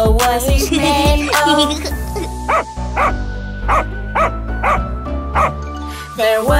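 Cartoon dog barks in a children's nursery-rhyme song about a farmer's dog, repeated yips and bow-wows set over bright sung music and melody throughout.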